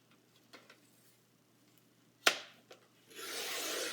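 A paper trimmer slices through pink floral patterned paper being cut into 1-inch strips, with a few soft handling taps, one sharp snap, then a steady close rasping cut.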